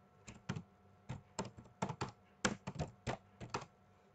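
Keys on a computer keyboard tapped in short irregular bursts of clicks, close and fairly quiet, with no voices.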